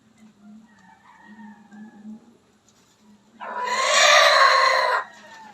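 A chicken clucks softly, then a rooster lets out one loud, drawn-out crow lasting over a second, close by with no talking.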